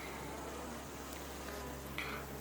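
A steady, low insect hum from bees, continuous and close, with a brief louder buzz near the end.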